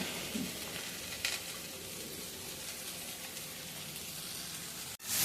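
Ivy gourd and potato pieces fry in a hot pan with a steady, dense sizzle that holds evenly throughout, marked by a brief clatter near the start and a sharp knock just before the end.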